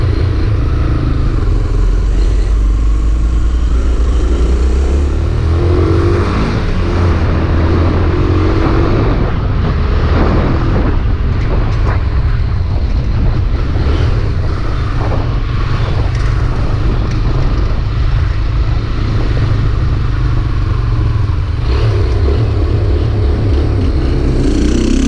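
A troubled motorcycle engine, still hard to start, rumbles steadily up close and surges in uneven revs on its own without being touched, with no voices over it.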